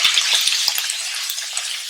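Giant oyster mushrooms stir-frying in a pan with salt and black pepper for a pasta dish, giving a close, steady bright sizzle with a few soft taps.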